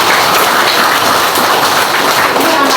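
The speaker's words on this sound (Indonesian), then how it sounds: "Oke, tepuk tangan." Elementary schoolchildren at SD Inpres Weesake in West Sumba applauding in class, a loud, dense, continuous wash of clapping from many hands with voices mixed in.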